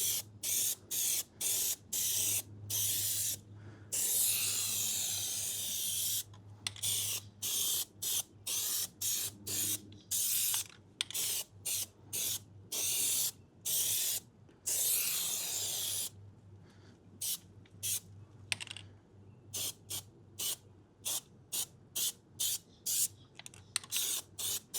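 Plasti-Dip sprays from an aerosol can onto a wheel rim in a first coat, a close steady hiss broken into many short bursts with brief silent gaps, growing more clipped and rapid toward the end.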